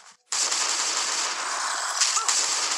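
A Colt fires in the zombie survival game Last Day on Earth, opening after a brief silence into a sustained, loud stream of rapid shots that runs almost unbroken to the end.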